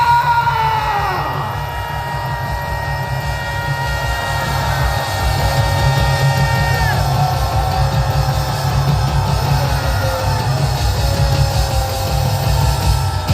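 A large crowd at a Korean political rally cheers and applauds as a pastor is welcomed. Sustained yells and whoops rise over a constant rumble of clapping, and the sound stays loud and dense throughout.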